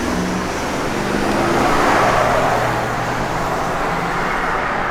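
A 1969 Chevrolet Chevelle SS cruises along the road, its engine a steady low drone blended with continuous tire and road noise, fairly loud and close, with no talking.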